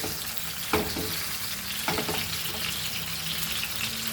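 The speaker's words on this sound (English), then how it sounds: "put this on this and fry. Fry on medium heat" Pearl spot fish fries in a pan over medium heat, a steady close sizzle broken by two brief clatters of the pan or utensil.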